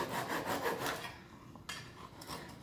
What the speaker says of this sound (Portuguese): Eu gosto muito desse serrotinho aqui